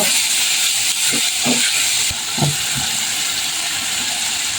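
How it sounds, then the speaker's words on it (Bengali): Garlic frying in hot oil in a pan for a prawn and taro-stolon curry, a steady loud broadband sizzle with a few brief stirring knocks partway through, no speech. "এখন আমি রসুন দিয়ে দিব দুই চামচ রসুন দিয়ে একটু নেড়ে নিব"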